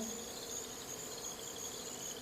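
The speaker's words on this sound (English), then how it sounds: "That's the sound of the basement." Faint, steady ambient drone in an old basement, a continuous high, cricket-like whine over a soft low hum that stays unchanged throughout, with no talking.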